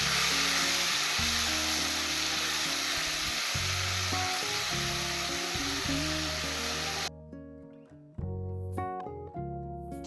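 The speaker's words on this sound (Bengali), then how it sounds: "টমেটো 2 থেকে 3 মিনিট ভালো করে কষিয়ে নিয়েছি" Tomato paste sizzles and fries loudly in hot mustard oil left from frying pabda fish, with a steady hiss and occasional stirring; the frying drops away briefly near the end, then resumes more quietly.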